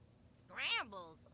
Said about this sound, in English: I don't know where that ugly ass cat is.